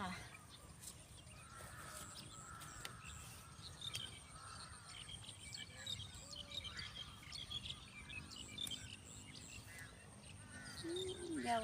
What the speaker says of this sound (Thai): เสียงอีกากระร้องก้ากะก้า